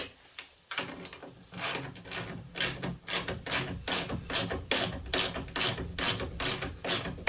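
A ratchet clicks in quick, rhythmic bursts as it tightens a bolt in a garage, each stroke a sharp run of pawl clicks, repeating evenly and close up.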